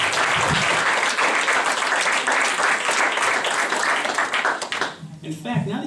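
Sustained audience applause from a crowd at a mentalist's psychokinesis show, dense and loud for about five seconds before fading out near the end.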